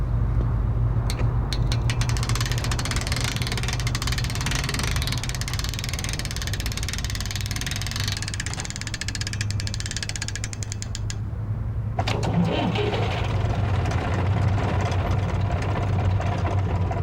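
A tractor engine runs steadily while pulling a boat forward, a loud, continuous mechanical drone with a low hum throughout and a shift in tone partway through.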